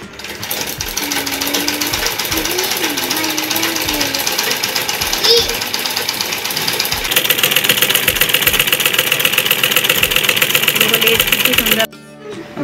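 A sewing machine stitches lace onto a saffron flag, its needle chattering in a fast, steady mechanical rhythm close by, with devotional music playing and a voice talking over it before the motor stops abruptly near the end.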